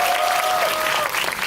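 Brief burst of audience applause at a Korean film talk event, dense and loud clapping filling the whole short moment with a tone sounding faintly beneath.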